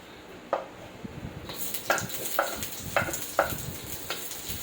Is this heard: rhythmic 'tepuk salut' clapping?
no